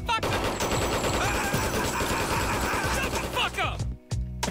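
Sustained automatic gunfire in a scene from the animated TV show The Boondocks, a dense loud fusillade filling most of the moment before cutting off into brief silence and a few final shots.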